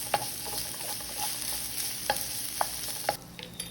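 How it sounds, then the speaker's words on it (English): Ginger, garlic, onions and pimentos fry in hot oil with a soft, steady sizzle, broken by several sharp scraping clicks as the pan is stirred; no talking. "I'm going to cook this for just about 1 to 2 minutes until those onions are nice and tender."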